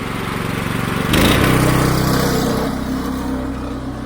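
A pressure washer engine used for house washing is throttled up and runs close by with a steady mechanical drone. It rises sharply partway through to a louder, rougher roar, then holds a constant running hum.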